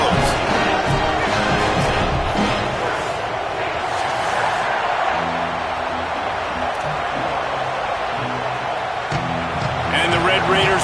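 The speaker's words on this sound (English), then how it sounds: "We've got the best crowd in college football." A stadium crowd in a college football video game roars steadily throughout, with broadcast-style commentary talking over it.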